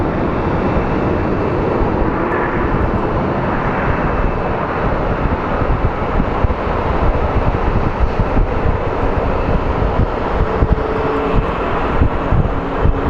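An airplane departing Phoenix Sky Harbor International Airport, a loud, broad roar with wind buffeting the microphone, holding steady throughout without letting up.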